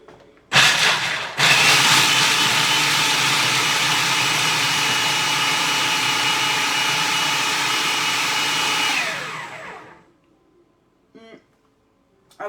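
A blender grinds walnuts on high, starting with a brief burst, then a loud steady whirring roar for about eight seconds before spinning down, followed by faint clicks.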